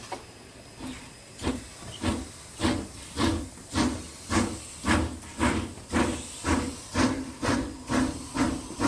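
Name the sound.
model locomotive Clan MacDonald pulling away with 14 coaches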